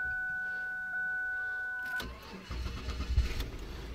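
A Ford Taurus 3.0 liter V6 engine being jump-started: a high electronic beep tone, then a slow starter crank that catches and fires into a rough, fluttering idle, close and loud.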